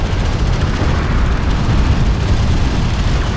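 Armored vehicle blowing up in the desert strategy game Homeworld: Deserts of Kharak, a loud, sustained explosive roar with rumbling low-end booms and no voices.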